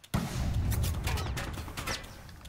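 Gunfire in the battle royale shooter Apex Legends: a dense, continuous fusillade of rapid cracking shots starting abruptly and holding fairly steady for a couple of seconds.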